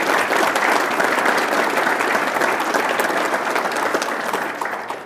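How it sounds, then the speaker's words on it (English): Loud, close audience applause at a State of the City speech, sustained dense clapping that tapers slightly at the end. "I hope that you'll give him a round of applause"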